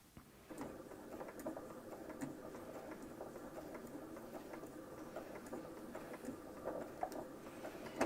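A sewing machine stitching slowly, with a quiet, steady rhythmic patter and a low motor hum, faint and without talk.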